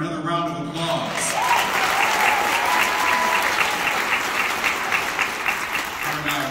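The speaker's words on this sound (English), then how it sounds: "Would please give Governor Wimper another round of applause." Full theater audience applause for a governor at a Detroit service awards ceremony, dense and sustained, rising after a spoken introduction and tapering as talk resumes.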